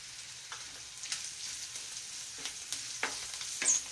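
Chillies and turmeric fry in hot oil for lemon rice, giving a soft continuous sizzle broken by a few sharp stirring clicks and scrapes, close and without talk.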